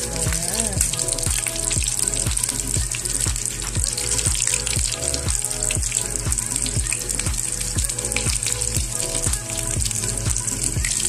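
Banana sizzles and crackles steadily in a frying pan, a dense bubbling hiss with rapid popping spatters throughout, close and fairly even in level.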